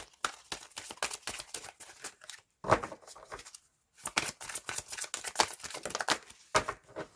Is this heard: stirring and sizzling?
no